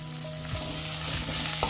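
Prawn masala with ginger garlic paste fries in a hot pan, a constant close sizzle broken by a few stirring scrapes and faint clinks, with no one talking.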